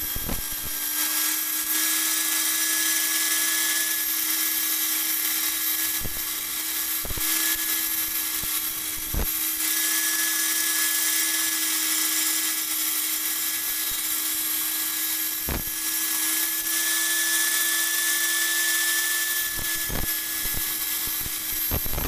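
A power tool cuts freehand through a cupboard door during a renovation, a steady high-pitched whine held for the whole stretch and broken by a few sharp clicks or knocks.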